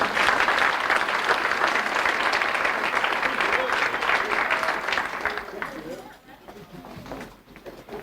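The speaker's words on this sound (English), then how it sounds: "Let's give these young people a fine round of applause." Crowd applause at a youth swimming championships ceremony, a full round of clapping that holds strong for several seconds, then thins out and fades as voices emerge.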